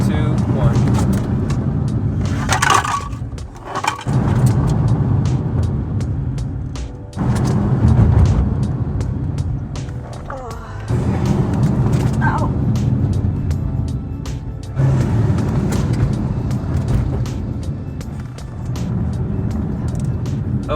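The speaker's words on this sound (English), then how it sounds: "get up to 45 miles an hour and then brake really hard down to 5 miles an hour" A 10th-generation Honda Civic runs with steady road and engine rumble, easing in level at intervals as it slows from speed under hard braking, with a voice talking over it.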